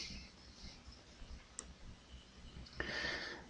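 Computer mouse clicking, two quick, faint, close clicks spaced about a second apart against a quiet room background with no talking.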